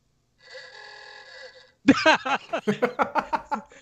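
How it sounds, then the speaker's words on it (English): A quiz game buzzer rings like a telephone, a short electronic trill lasting about a second, followed at once by a burst of laughter. "And David, what is your buzzer?"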